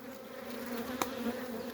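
Honeybees of the Caucasian (Kılıç) strain hum steadily at a beehive holding an eight-frame package of brood, a continuous close buzz with no voices.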